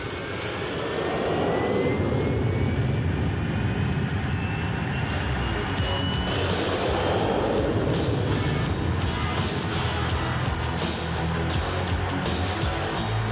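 A loud, continuous jet engine roar with a rising whine sustained throughout, close and powerful, as jet aircraft launch from an aircraft carrier flight deck.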